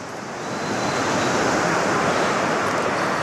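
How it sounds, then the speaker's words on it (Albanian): Pacific Ocean surf breaks on the shore at Las Catalinas, Costa Rica: a steady, dense wash of waves that swells slightly and then holds as a continuous roar, with no voices. "Ky është oqeani paqësor."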